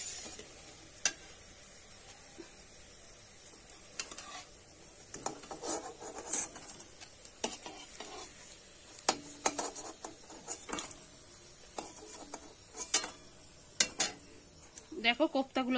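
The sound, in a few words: frying pea koftas lifted from sizzling oil in a pan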